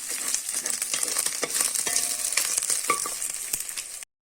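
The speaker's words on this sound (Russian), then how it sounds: "На нем будем зажаривать мясо." Meat for plov fries in rendered fat with a steady, loud, close sizzle and crackle that runs unbroken until it cuts off abruptly.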